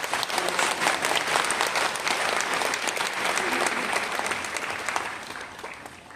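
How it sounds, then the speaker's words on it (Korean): An audience at a Korean welcome and congratulatory ceremony gives sustained, even applause, a thick wash of many hands clapping together at steady loudness throughout. "준비하신 모든 분들을 우리가 격려로 박수로 다시 한번 감사하겠습니다"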